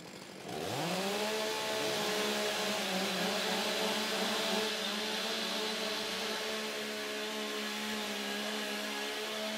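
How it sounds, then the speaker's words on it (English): A STIHL MS661 professional chainsaw revs up from a start and then holds a loud, steady high-pitched engine whine for several seconds, close by with no talk. "Warm up your saw."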